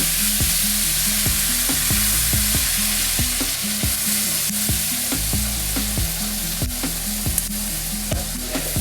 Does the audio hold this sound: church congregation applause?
no